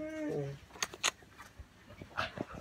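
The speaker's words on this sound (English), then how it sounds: "No barking." A dog gives a few short, sharp barks and yips between quiet pauses, fairly faint, with a person's voice heard briefly at the start.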